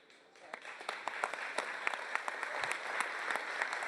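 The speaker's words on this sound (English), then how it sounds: "so round of applause for you guys too" Graduates and guests at a commencement ceremony break into applause that builds from quiet to a full, steady clatter, with sharp individual claps standing out near.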